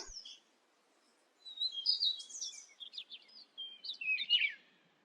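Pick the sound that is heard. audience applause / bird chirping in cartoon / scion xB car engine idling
bird chirping in cartoon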